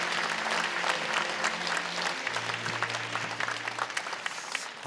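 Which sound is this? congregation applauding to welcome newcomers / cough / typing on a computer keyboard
congregation applauding to welcome newcomers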